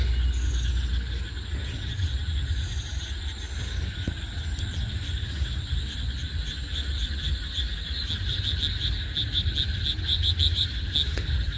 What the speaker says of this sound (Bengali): ব্যাঙে ডাকতেছে